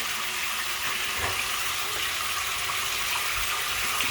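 Running tap water in a sink that a cat plays in, a loud, steady gush pouring continuously and close up with no break.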